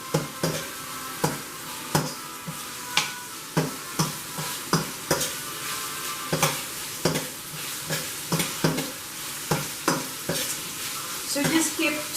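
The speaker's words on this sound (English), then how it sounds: "So just keep sauteing that until you release that aroma from the ginger and the onions" Ginger, garlic and onions sauté in a pan on high heat, with steady sizzling and regular, rhythmic scrapes and taps of a spatula stirring roughly every second, close and clear.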